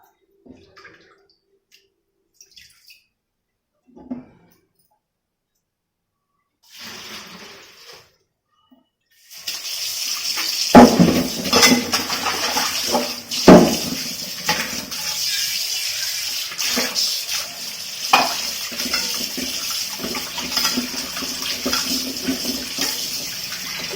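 Surmai and Saundale fish are rinsed clean with water in a kitchen vessel, starting with a few faint clinks and a brief burst, then a long spell of steady splashing and running water with occasional knocks.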